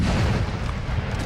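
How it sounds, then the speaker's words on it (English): Artillery firing canister shot at cavalry in the video game Napoleon Total War, a deep, rumbling boom over continuous battlefield noise, heavy and close. "Oh, the canister into the cav."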